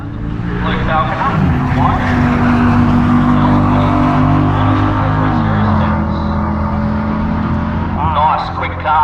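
A quick street car accelerates hard down a drag strip, its loud engine rising through the gears in long climbing tones before easing off, with an announcer talking over it and crowd noise behind.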